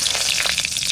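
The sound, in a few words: dry chilli, bay leaf and cumin sizzling in mustard oil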